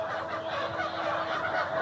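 Layer hens in a poultry shed cluck and murmur together as a dense, continuous flock chatter, close by with no talk over it.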